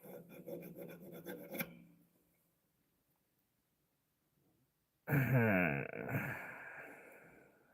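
A silver three-stone pendant is filed by hand at a silversmithing bench: rapid rasping strokes, a quiet pause of a few seconds, then a louder, denser run of close filing strokes.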